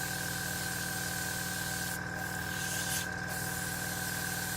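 Mr. Color lacquer paint is sprayed through an airbrush onto a Tamiya 1/32 F-16 model kit, a steady close hiss over a constant humming drone, with two brief pauses in the spray.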